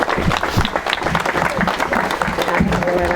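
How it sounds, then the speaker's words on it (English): Wedding guests clapping at a ceremony, a dense, close round of applause that holds steady, with faint voices mixed underneath. "Big round of applause here."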